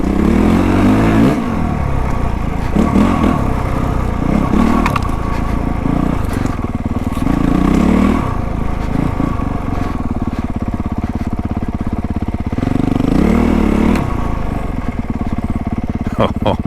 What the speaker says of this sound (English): Out trail riding on the CRF450 full-on Works Edition